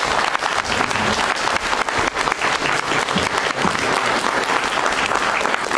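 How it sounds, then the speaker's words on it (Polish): A crowd at a political rally in Staszów, Poland, claps steadily and loudly, a dense continuous patter of many hands that holds at full strength throughout. "warto oddać mu w tym momencie głos i brawa dla pana Grzegorza."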